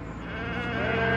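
A flock of sheep bleat continuously at close range, layered overlapping calls holding steady and growing slightly louder through the short stretch, with no talk.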